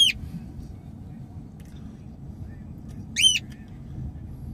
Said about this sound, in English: He brought his bird. Gee, that's what you hear.